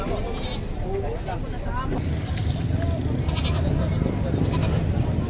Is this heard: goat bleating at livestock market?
yes